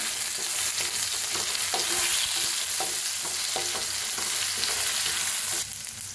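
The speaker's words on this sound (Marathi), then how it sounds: "तेल टाकलं का त्याच्यात घालूया मिरची जो बारीक कुटून घेतलेली आपण। तर छान भाजून घेऊया आपण।" Finely crushed green chillies fry in hot oil for a potato bhaji, a loud continuous sizzle with rhythmic spatula scrapes and clicks, fading slightly at the end, with no talking.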